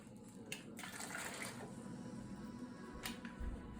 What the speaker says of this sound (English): I start with 5 cups of boiling hot water put into a pan